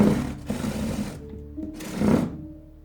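A refrigerator pushed slowly across a floor, heard as a steady grinding, rattling scrape in two long drags with a brief pause between them, alone and fairly loud.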